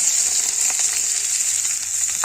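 Chopped onion and green chilli frying in white oil in a wok, a loud, steady, close sizzle that hisses continuously throughout without any voices.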